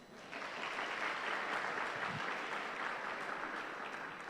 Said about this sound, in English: Clap them again, please.